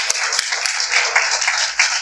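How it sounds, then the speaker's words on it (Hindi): Audience at a mushaira poetry gathering in Bhopal bursts into dense, lively applause, a bright continuous wash of many clapping hands heard close and fairly loud for about two seconds. "जोरदार तालियों में इस्तकबाल कीजिए।"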